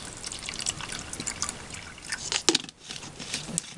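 Water trickles and drips into a watercolor palette, a soft continuous dribble with small splashes, close and quiet.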